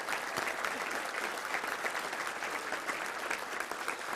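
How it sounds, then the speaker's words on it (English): An audience at a Little Rock Touchdown Club luncheon gives a round of applause, a steady dense clapping from a moderately distant crowd that holds for the whole span without voices. "let's give a round of applause for Janie if she's watching."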